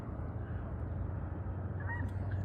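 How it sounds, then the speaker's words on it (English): Canada geese at a reservoir give a few brief honks over a steady low outdoor rumble, distant and fairly faint. "They sound like geese though."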